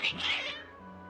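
Cats meowing in the video game Genshin Impact, a close, loud, drawn-out agitated meow that trails off into a quieter sustained tone.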